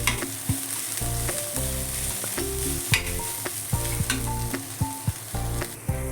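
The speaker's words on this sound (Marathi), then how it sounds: "आपला आता कांदा चांगला ब्राऊन झालेला आहे भाजून" Onion and garlic sizzle steadily in a pan while being stirred, for a Goan oyster gravy, with frequent soft scraping clicks from stirring over a continuous frying hiss and a tonal musical background.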